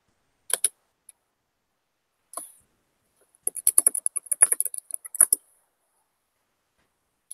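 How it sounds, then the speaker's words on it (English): Bursts of keystrokes on a computer keyboard as a message is typed, a few isolated taps followed by a quick, dense run of clicking at close range, then silence. "I'm going to type a message to you."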